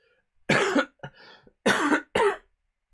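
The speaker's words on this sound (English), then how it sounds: "Cough." A gamer streaming Baldur's Gate: Siege of Dragonspear coughs several times close to the microphone, two sharp coughs with smaller throat sounds between them, separated by silence.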